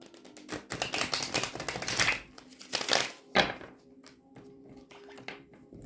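Tarot cards shuffled with dense papery riffling and crinkling in several bursts, with quick flutters and a few soft taps between them, close to the listener, no talking.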